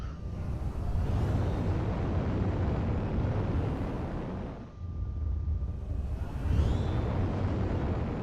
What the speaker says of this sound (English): people are exploding all over the place